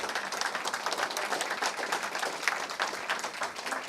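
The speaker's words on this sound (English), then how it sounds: "let's lay a round of applause for our mayoral candidates" A seated audience at a League of Women Voters election forum for Columbia mayoral candidates claps steadily, a dense, even patter of many hands close by, with no talk over it.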